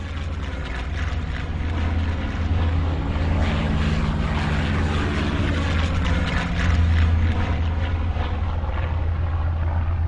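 Loud, sustained droning roar of Nationalist military aircraft engines and propellers over the Brunete plains in July 1937, swelling slightly and filling the whole stretch without speech.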